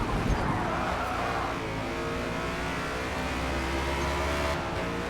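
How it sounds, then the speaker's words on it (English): Race car in Forza Motorsport slides sideways on the e-brake, its engine droning loud and steady with a rough scrubbing tyre noise underneath, close and continuous without talk. "Gonna have to hit the e-brake just to save that a little bit. Going a little sideways here,"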